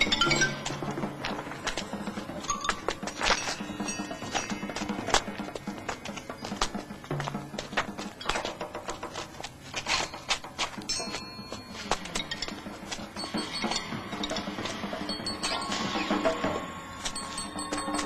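Small bells jingle and clink continuously inside a cave, a busy, dense metallic tinkling with scattered brighter taps, moderately loud and steady throughout with no voices.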